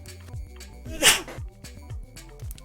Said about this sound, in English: Right, now I'm about to sneeze.